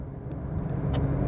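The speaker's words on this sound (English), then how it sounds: "We've got some clear roads to enjoy the 6-cylinder engine" A BMW 525i E34 with a six-cylinder engine cruises on an open road, a steady muffled engine and road drone from inside the car, continuous and fairly loud.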